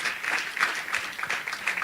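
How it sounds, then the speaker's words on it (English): Applause for panelists at a young lawyers' conference, a short stretch of brisk, fairly close clapping from a modest audience with uneven peaks. "a round of applause, please,"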